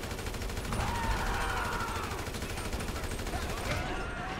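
Gunfire during a rampage in the video game Grand Theft Auto V: a continuous rapid rattle of automatic shots, loud and steady throughout with little pause, and faint background noises from the game.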